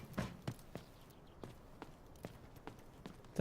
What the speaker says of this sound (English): Definite footsteps.